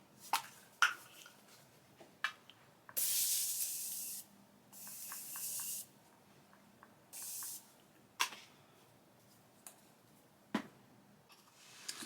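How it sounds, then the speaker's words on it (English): Three separate bursts of fine hissing makeup setting spray, each lasting about a second, with soft taps and clicks between them in an otherwise quiet room. "Now I'm just gonna come in with a morphine spray."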